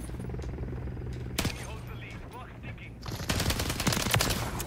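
STG 44 automatic fire in the video game Modern Warfare 3, quieter scattered bursts at first, then a dense stretch of rapid close shots toward the end, with game noise underneath.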